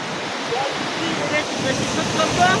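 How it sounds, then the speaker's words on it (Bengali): Water splashes and pours into a river beside bamboo fish traps, a steady, close rushing and gurgling wash with no clear pauses. "এই যে যেমন এখানে জল পড়ছে, ওই দিকটাতেও জল পড়ছে"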